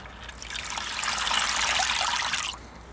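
Water poured into a bucket, a steady splashing trickle that builds quickly, holds for about two seconds and then stops, heard alone.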